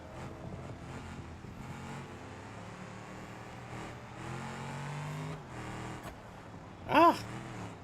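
A racing car's engine drones steadily through a video game lap at Hirochi Raceway, swelling slightly midway, then a sharp rising squeal cuts in loudly near the end.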